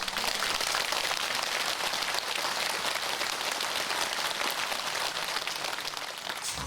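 Steady applause from a large church congregation gathered for a memorial cathedral's consecration, a dense, even wash of clapping that holds at full strength for several seconds without any voices on top.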